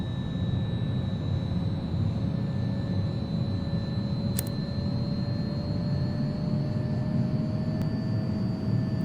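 Steady cockpit drone of an airliner cruising in the X-Plane 11 flight simulator on a Stockholm to Frankfurt flight, a constant low rumble with a faint high tone and no talking.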